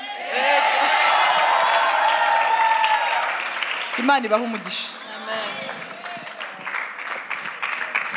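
A crowd claps and cheers for a guest at a youth church talk show. A host's voice speaks over the start, then the clapping and scattered whoops carry on more loosely underneath.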